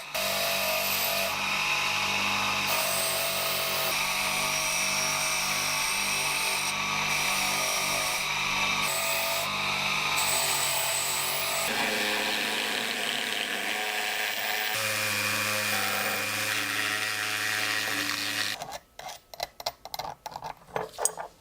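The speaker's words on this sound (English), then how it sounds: "then cleaned further on a buffing wheel" A buffing wheel cleans rusted Filipino balisong handles, a steady motor-driven whir with shifting tonal hum as the metal is worked. Near the end it gives way to sharp, uneven knocks.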